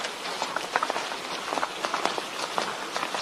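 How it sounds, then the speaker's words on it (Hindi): Rain begins to fall outdoors at night, with scattered drops pattering and tapping on a surface in an irregular, quickening patter, moderately loud and close, with no talk. "फिर तेजी से बूंदाबांदी शुरू हो गई।"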